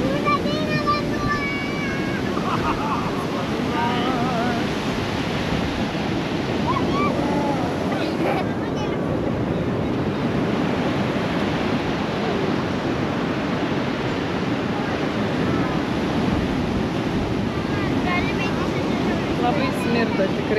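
Sea waves wash onto a Mallorca shore in a steady, rushing roar, with wind buffeting the microphone throughout and faint voices at times.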